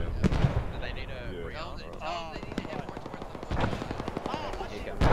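Rapid bursts of gunfire in the video game Arma 3, in a 1965 Congo scenario, crackle in sharp clusters, some sounding distant, while voices talk over the shooting.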